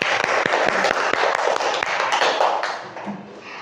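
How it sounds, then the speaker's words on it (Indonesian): Young children in a kindergarten class clap their hands together in a quick, uneven patter of sharp slaps, close and lively, fading out toward the end. "Tepuk tangan untuk kalian semuanya"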